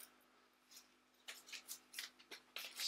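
Crinkly rustling and tearing of a small plastic packet being opened during an unboxing of homebrew accessories, a series of soft close scrapes and crackles that grow busier toward the end over a faint steady hum.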